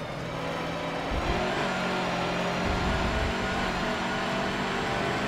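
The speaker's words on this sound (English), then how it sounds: "Here we have the hot lap for the Mercedes-Benz racing truck." A Mercedes-Benz racing truck on a hot lap in Forza Motorsport 7 gives a loud, steady engine drone with slight swells in revs, continuous throughout and with no voices.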